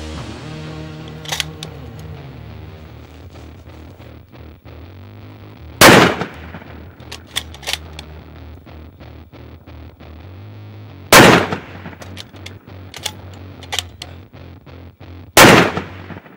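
Several loud .308 rifle shots fired at targets crack out at irregular intervals outdoors, each a sharp blast with a brief ringing tail, with smaller metallic clicks and faint distant reports between them.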